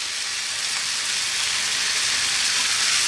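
Cold cooked rice sizzles steadily in a hot pan for West Indian pumpkin fried rice with allspice and thyme, making a loud, continuous, bright frying hiss.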